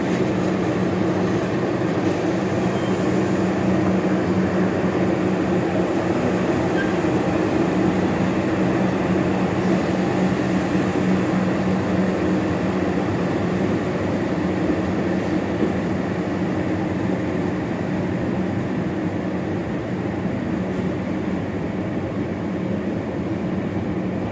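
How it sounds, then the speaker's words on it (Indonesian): A Sindro passenger train rumbles past in a steady, continuous roar of wheels and carriages that stays loud and even throughout, with no voices. "rupanya kereta api Sindro guys"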